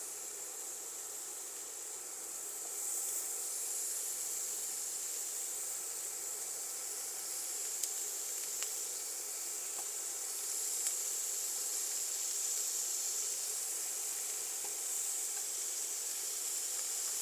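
Knockwurst sausages, placed cut side down, sizzle in a hot pan on an induction cooktop, producing a continuous soft hiss and crackle with no talking.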